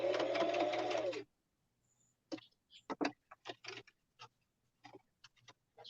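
A sewing machine stitches through paper in a short loud burst of rapid mechanical whirring, then stops, followed by scattered soft clicks and handling noises.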